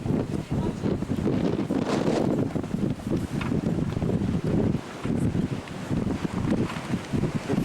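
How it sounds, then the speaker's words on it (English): Strong wind buffets the microphone continuously at the Cave of the Winds beside Niagara Falls, a loud, roaring rush with gusty swells and no clear voices. "it just gets windier and windier"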